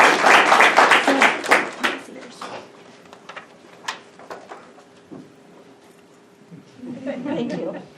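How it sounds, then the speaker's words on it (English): Audience applause at a lecture's award presentation: a burst of clapping fills the first two seconds, then fades into scattered claps, room murmur and faint voices, with a brief swell of applause near the end. "Let's give her another round of applause."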